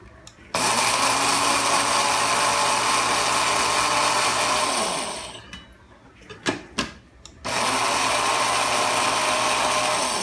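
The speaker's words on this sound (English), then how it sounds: "we want to grind this up" Spice seeds are ground in an electric grinder, a loud, high whirring run of about five seconds that dies away, then a few short bursts and another steady run.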